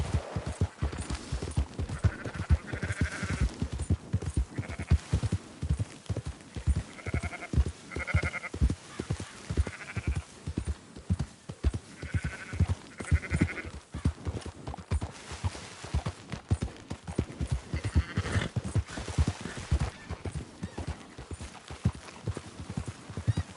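Sheep bleating in the western game Red Dead Redemption 2, scattered calls rising over a steady clip-clop of horse hooves as a flock is herded, the bleats coming in irregular bursts across the whole stretch.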